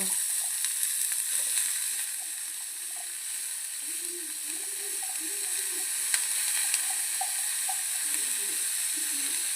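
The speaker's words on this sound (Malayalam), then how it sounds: "അപ്പം ഇനി നമുക്ക് ഉള്ളി എടുത്തിട്ട് കൊടുക്കാം കേട്ടോ" Onions fry in coconut oil with mustard seeds, giving a steady close sizzle with scattered small pops and faint scraping throughout, and no voices.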